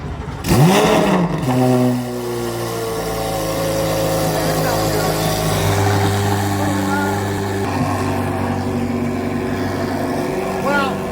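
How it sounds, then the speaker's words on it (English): Corvette C8 Z06 with a non-stock aftermarket exhaust firing up from cold, heard close by the tailpipes: a loud bark at startup settling into a steady, deep, rumbling high idle, with someone talking over it. "Cold start, right by the exhaust."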